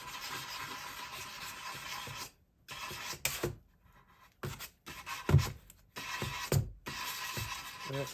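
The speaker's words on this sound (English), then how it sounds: "And I'm using 180 grit sandpaper." Sandpaper of 180 grit rubs by hand along the edges of a wooden cutting board in close, scratchy strokes. Several short bursts of rasping are broken by brief pauses and a few light knocks, with no talking.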